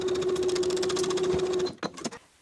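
A sewing machine bastes the top of a pocket to a front skirt piece, stitching in a fast, even rhythmic whir at close range, then stopping, followed by a few faint handling clicks.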